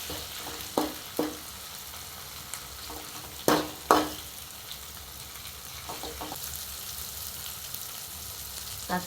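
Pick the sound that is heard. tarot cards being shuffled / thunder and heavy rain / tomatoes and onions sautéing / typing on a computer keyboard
tomatoes and onions sautéing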